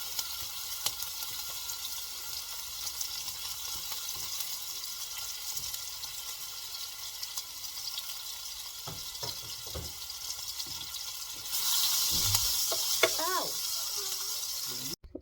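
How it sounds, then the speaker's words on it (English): Chopped onions sizzle steadily as they saute in a pan of mixed butter and oil, a continuous frying hiss that grows louder near the end, with a few clinks and faint speech. "So we're going to saute the onion."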